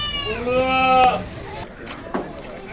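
At the Kalampur goat market, a goat gives one loud, drawn-out, quavering bleat up close, then fainter rustling and a brief knock follow.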